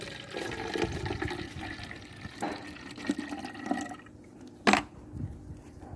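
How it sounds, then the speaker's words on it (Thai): Rice-washing water, about half a glass, splashes and gurgles as it is poured into a container of liquid plant spray mix, a close, steady pour that ends in a brief louder splash. "น้ำซาวข้าวครึ่งแก้วนะคะ ใส่ไปเลยค่ะ"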